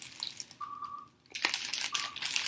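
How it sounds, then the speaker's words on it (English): Crinkling of a thin plastic bag used as makeup brush packaging, close crackly rustles in two bursts separated by a short pause, with a faint tone in the background. "A plastic bag like this."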